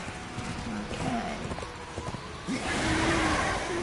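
Horse hooves clip-clopping at a steady trot while riding in the video game Darksiders 2, rhythmic and close, layered over game ambience and a swelling whoosh near the end, with someone talking over it.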